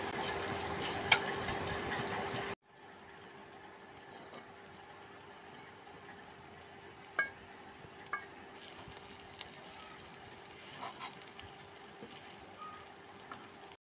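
Onion and garlic frying in a pan for a beef jhuri dish, a faint, steady sizzle running throughout with a few sharp clicks and pops, after a brief louder burst at the start.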